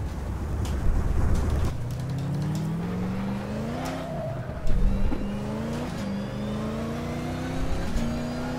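A race car engine in the Race07 sim at Imola, driving slowly off the racing line, hums steadily with rising and falling revs and gear changes, loud and close with no talk.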